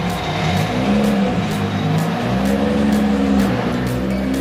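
Mark 4 Toyota Supra at an underground car meet, a steady close engine drone with slowly shifting pitch and faint rhythmic ticking, loud and continuous throughout with no talk.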